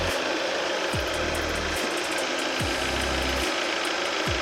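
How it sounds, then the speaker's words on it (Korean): A loud, steady engine drone heard up close from the engine bay of a Hyundai Grandeur HG240, with rhythmic thumps recurring roughly every second and a half, no talking. "엔진 소리 일정하고 좋습니다."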